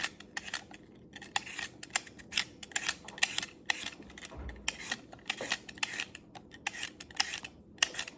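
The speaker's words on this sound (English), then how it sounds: "ever since I bought this little gadget, it makes peeling potatoes so much easier" A handheld peeler scrapes potatoes in a kitchen while a plant-based meal is being prepared, giving a steady run of short, crisp scraping strokes close by with no talk.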